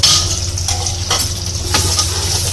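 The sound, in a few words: boiled meat stirred into fried onions for haleem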